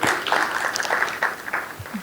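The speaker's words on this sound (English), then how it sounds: "Please give her a big round of applause" An audience at a University of the South Pacific morning tea gives a round of applause, with scattered clapping and a voice speaking over it through a short, busy burst.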